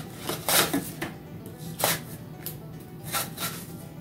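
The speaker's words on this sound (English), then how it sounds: "we're going to just use this mandolin here and make nice thin slices" A green apple being sliced thinly on a mandoline for pumpkin and apple pie rolls, a series of crisp swishing strokes at an irregular pace, close and moderately loud.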